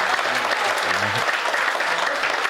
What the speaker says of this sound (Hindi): एक बार तालियां बजाइए उस बिटिया के लिए।